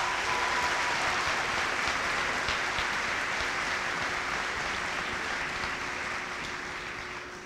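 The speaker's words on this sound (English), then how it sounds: "but I think she deserves a big round of applause." Sustained applause from the audience at a middle school promotion and award ceremony, a steady dense clapping that carries on for several seconds before gradually fading out.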